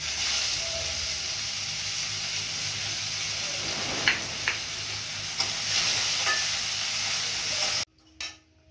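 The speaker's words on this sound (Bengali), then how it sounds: "পেঁয়াজটা ভেজে নিয়েছি" Onion fries in oil with cloves, cinnamon, cardamom and cumin, a dense steady sizzle broken by a few stirring scrapes and clicks. The sizzle cuts off abruptly near the end, and one last knock follows.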